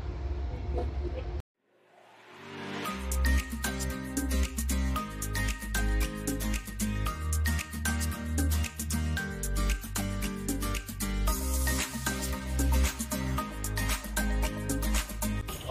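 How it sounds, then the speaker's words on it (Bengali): Inside a moving passenger train carriage on a USA to Canada rail journey, a steady loud rumble and rhythmic clatter of wheels on track continue with little change, after a brief quiet moment at the start. "এখানেও ট্রেনের বগিতে এক বগি থেকে আরেক বগিতে যাওয়া যায়"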